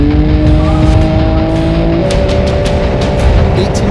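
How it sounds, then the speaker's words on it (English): A Baja 500 off-road race car launches hard off the start line, its engine roaring loud and close with rising revs, gear-change shifts and crackling bursts of exhaust. "1870 is off the line."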